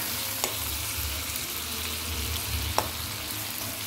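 Ground peanut paste being stirred into frying green onion vegetables in a hot pan, a steady sizzle with occasional scrapes of the spoon, no voices.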